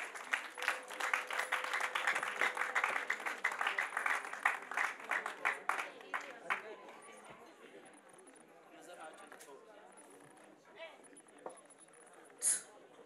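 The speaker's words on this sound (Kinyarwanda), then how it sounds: "Mumpereye amashyi Imana muri iki gitaramo." An audience at a Christian gospel concert during a wedding claps in a loud burst of applause that gradually thins out into scattered claps and crowd murmur.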